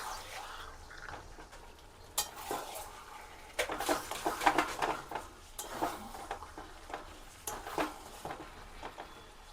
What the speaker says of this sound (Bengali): ভালো করে কষে নিচ্ছি বন্ধুরা কারণ বড় বড় পিস আছে